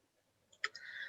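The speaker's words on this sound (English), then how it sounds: "Now the dolphins have turned up with the clicking and the clacking." Dolphins click within a calm meditation soundscape: a faint, quick burst of clicks followed by a thin, sustained high squeal, soft and distant, with no voices.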